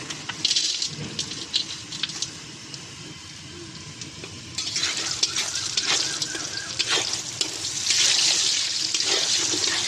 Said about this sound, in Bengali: বড়িগুলো একটু ভাজা ভাজা করে নেব।